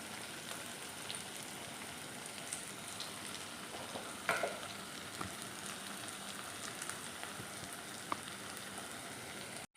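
Beef masala for Kerala-style beef dry fry sizzles and crackles steadily in hot oil, a dense continuous frying hiss with a few sharper pops, alone with no talking.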